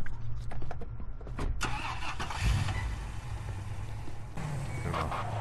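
A car engine cranks and fires up in the Police Simulator game, then settles into a steady mid-pitched running hum as the vehicle drives off, close and alone without talk.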